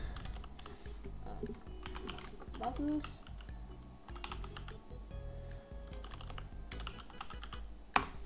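A computer keyboard is typed on in quick bursts of clicky keystrokes, close and fairly quiet, while someone speaks softly over part of it and a single sharp click sounds near the end.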